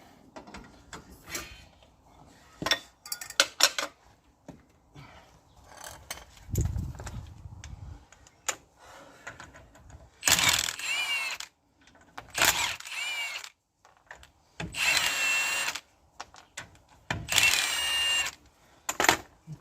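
Rusty wheel nuts are undone on a Rover 75 Connoisseur CDT, with several sharp bursts of a powered tool rattling in short loud blasts between quieter clicks and clanks.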